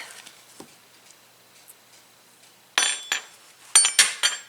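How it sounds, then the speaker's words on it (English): A knife cutting thin pieces of butter for stuffed baked potatoes, heard as quiet, sparse clicks and light clinks against a dish, then a cluster of sharper, louder taps near the end. "the next step is I'm going to cut some pieces of butter off here"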